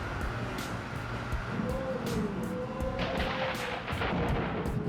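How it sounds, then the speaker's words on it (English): Thunder rolls during a summer thunderstorm in Chicago, a continuous deep rumble that swells and booms throughout, loud and close. "Chicago explodes with lightning and thunder during summer thunderstorm."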